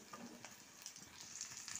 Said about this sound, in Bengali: ভেন্ডিগুলোকে আমি এরকমভাবে লাল করে ভেজে নেব